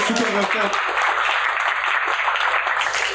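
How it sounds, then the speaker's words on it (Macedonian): Audience applause after a stage presentation at a JavaScript game engine talk, a loud sustained patter of clapping with a voice audible at the start. "ве молам аплауз"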